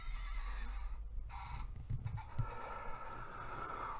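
A horse whinnies and snorts in a short burst partway through, fairly close, over steady background noise and no talking.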